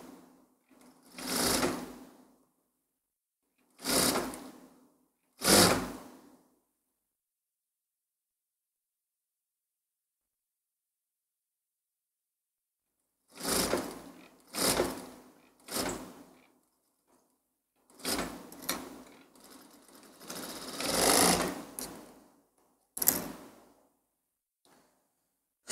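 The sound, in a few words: sewing machine stitching along a seam edge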